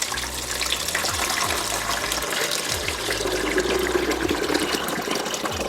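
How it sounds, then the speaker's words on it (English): Water pours steadily into a Frigidaire compact countertop ice maker, a continuous splashing gush filling the reservoir for several seconds, close and fairly loud with no talking. "So let's add some water inside first."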